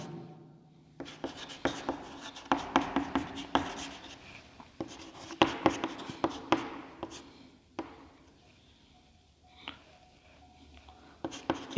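Chalk or marker scratching out numbers on a board during a maths lesson, in quiet irregular clusters of taps and strokes with brief pauses between figures, and no talking.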